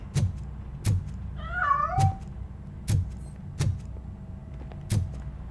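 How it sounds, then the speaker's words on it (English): A cat in the game Robocop: Rogue City lets out a drawn-out, wavering meow, set against a steady series of sharp thuds at roughly one-second intervals. "That cat must be hiding inside."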